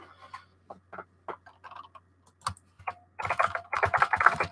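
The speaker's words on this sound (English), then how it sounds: "I'll type it in the chat for you" Someone types on a computer keyboard nearby, with sparse separate keystrokes at first and then a quick, dense clatter of keys toward the end.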